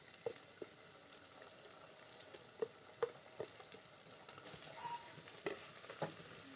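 Chili sauce sizzling in a pan with browned onions, a faint, steady crackle with scattered pops and soft stirring scrapes, quiet and close.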